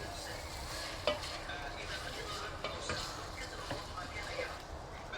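A pre-cooked spiced lamb mixture with soaked rice is stirred in a pan. Steady scraping and soft sizzling run throughout, with a few sharper utensil clicks, and quiet talk in the background.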